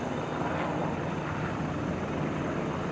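Several military helicopters carrying mountain commandos out of Gao in Mali make a dense, steady rotor and engine roar that fills the whole clip without a break.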